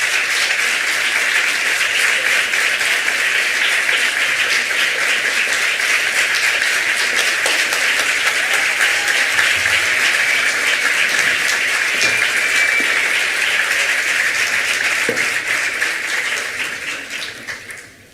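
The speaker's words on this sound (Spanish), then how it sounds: "que pasen y reciban este caluroso aplauso de todos los que estamos" Sustained applause from an audience at an astrology and healing congress, dense and steady for most of the clip before tapering off near the end.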